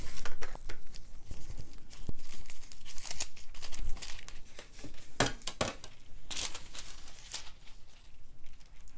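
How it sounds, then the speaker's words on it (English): A Crafter's Companion disco ball foil sheet being handled close up, producing steady crinkling and rustling with sharper crackles and brief tearing-like bursts throughout, fairly loud and continuous, with no voice. "I am going to be using this from Crafter's Companion, the disco ball"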